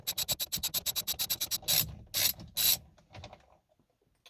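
A ratchet rapidly clicking as the steering wheel bolt is undone on a 2007 BMW 335i, a quick even series of close, sharp clicks followed by a few slower, heavier ratcheting strokes that fade out.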